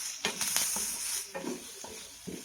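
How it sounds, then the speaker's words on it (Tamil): Coconut pieces being stirred and sautéed in a pan for pirandai thuvaiyal: short bursts of spatula scraping over a light sizzle, close and without talk. "சேர்த்துட்டு இதை நல்லா மிக்ஸ் பண்ணி விடுங்க தேங்காய் சேர்த்ததுக்கு அப்புறமா ஒரு ரெண்டு நிமிஷம் மட்டும் வதக்கி விட்டால் போதும்"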